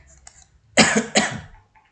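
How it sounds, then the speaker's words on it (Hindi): A man coughs twice in quick succession, loud and close, during a lecture, with near silence before and after. "आज बहुत ज़्यादा मुझे खांसी हो रहा है"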